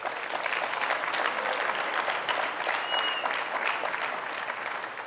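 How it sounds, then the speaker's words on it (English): Audience applause greeting an envoy introduced by the U.S. Secretary of State at a policy address: steady, dense clapping from a large crowd, fairly loud and continuous for several seconds, with no talking over it. "I hope you appreciate the applause"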